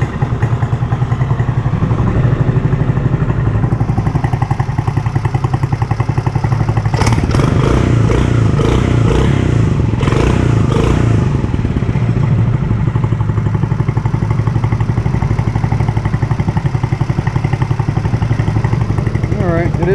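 A Mokai EX21/17 engine runs with a prototype water-cooled muffler, a loud, continuous mechanical drone with some rattly clatter and brief bursts of higher noise in the middle.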